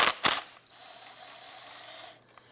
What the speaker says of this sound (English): Around the perimeter is a series of 8mm bolts. Let's go ahead and loosen and remove those.